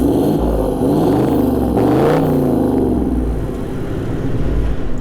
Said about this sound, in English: Feels and sounds like a V8.